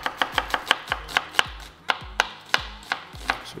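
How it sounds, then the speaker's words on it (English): A knife chopping ingredients for an antelope dish on a cutting board, a quick series of sharp, crisp chops in uneven bursts, close and clear with no talking. "I'm gonna cut it a little finer"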